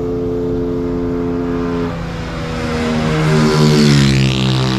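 Honda Titan motorcycles, a 190cc and a 170cc, accelerate hard in a street race, their engines droning and climbing in pitch as they pull close by, loud and without talk.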